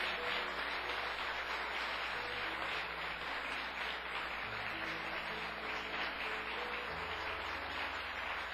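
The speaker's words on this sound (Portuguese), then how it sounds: "dê um aplauso ao Senhor bem forte aí no seu lugar" A church congregation applauds together in sustained, dense clapping that holds steady at a moderate distance, with no voice rising above it.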